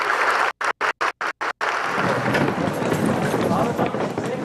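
A room of delegates at COP climate talks breaks into loud, sustained applause after the deal text is agreed in the early hours, with a broadcast voice over the clapping and brief dropouts at the start.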